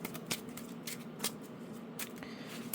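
Cheap standard-sized plastic card sleeves being shuffled by hand, a series of quick, crisp riffling snaps spaced irregularly at close range, fairly quiet overall.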